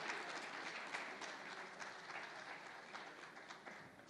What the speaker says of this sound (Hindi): तो जोरदार तालियां, तालियों की गड़गड़ाहट अभी भी कम मुझे महसूस हो रही है।